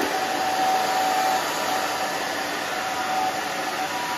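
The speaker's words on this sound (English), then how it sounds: "now what we're gonna do is I'm gonna just dry this down." A hair dryer blows steadily and close while drying a short pixie cut, with a constant whooshing roar and no break.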